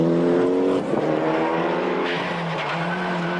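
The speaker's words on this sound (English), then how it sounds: "just how hard the Finn is pushing the Mitsubishi" A Mitsubishi rally car at the 1995 Monte Carlo Rally is driven hard on tarmac, its loud engine holding a high droning note that dips and climbs through gear changes, with a brief tire squeal, close and continuous.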